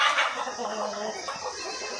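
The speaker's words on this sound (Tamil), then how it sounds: "இங்கே ஒரு கோழி முட்டையிட்டு அடை கிடக்குறது பாருங்கள்." A hen on a country chicken farm gives a few short clucks close by, brief and moderately loud against faint farmyard background.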